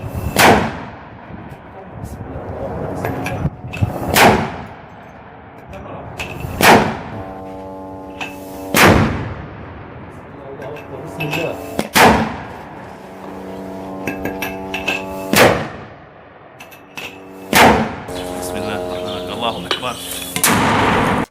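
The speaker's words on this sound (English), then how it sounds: "So these are mortars being fired" Mortar rounds firing in a combat area, a series of about nine loud, sharp booming reports spaced a few seconds apart, each trailing into a rumbling echo, with voices talking in the gaps between shots.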